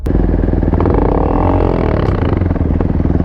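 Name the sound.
quad bike engine launching for a race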